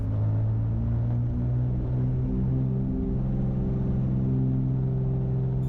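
A small airplane engine runs at full throttle on the takeoff roll, giving a loud, steady, close-up drone with a constant pitch and no break for the whole stretch.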